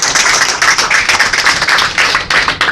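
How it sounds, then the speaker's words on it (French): Clapping from a church congregation during a prophet's sermon, a dense, steady patter of many hands that holds loud and close for the whole stretch, with no voices over it. "Applaudissez à Dieu."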